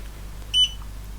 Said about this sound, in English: I've got it set to beep at me to let me know that it's scanned this current page.